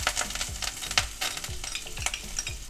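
Curry leaves, green chilies, garlic and ginger sizzle in about a tablespoon of hot oil with cumin in a kadai, a steady crackling fry broken by repeated scraping stirs of a spoon, close and clear with no voices.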